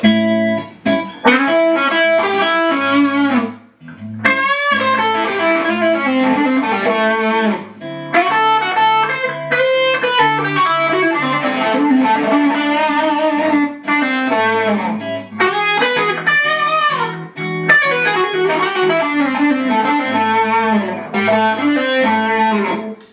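Electric blues guitar playing a lick that weaves chord tones with arpeggios, lightly overdriven through effects, in continuous phrases with brief pauses between runs, loud and alone.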